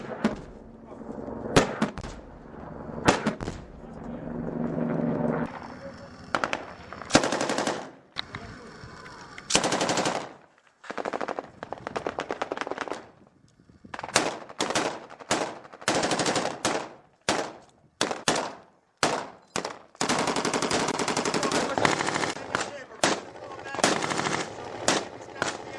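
Marines trade gunfire in a real firefight, with bursts of machine-gun fire and single shots cracking in irregular clusters, some close and loud, others farther off, while voices shout intermittently.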